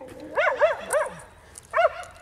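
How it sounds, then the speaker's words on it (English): Excited dogs bark at neighbors outside, a quick run of three yelping barks, a pause, then one more bark, fairly close. "our dogs are going a little bit crazy with neighbors coming out"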